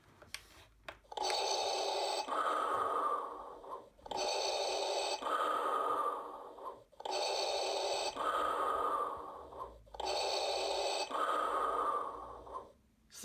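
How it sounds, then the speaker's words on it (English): Darth Vader breathing from a Star Wars Black Series replica helmet, four slow, mechanical respirator cycles in a steady rhythm, each a long hissing inhale followed by a hollow exhale, separated by short gaps and a click at the start. "traditional Darth Vader breathing there"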